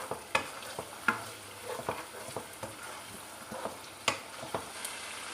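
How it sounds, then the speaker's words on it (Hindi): Minced beef keema is stirred in a pan over a high flame, giving a low sizzle with repeated sharp scrapes and clacks of the spoon against the pan. "थोड़ा सा मैं आंच तेज़ करती हूँ और इसकी हम थोड़ी सी और बुनाई करते हैं।"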